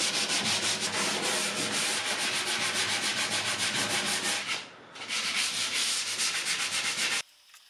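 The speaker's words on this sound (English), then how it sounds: "it's time to sand the entire piece with 220 grit" A painted mid-century wooden dresser is sanded with 220 grit sandpaper, giving a steady, close, rhythmic rasping scrub that continues with a brief pause before stopping abruptly.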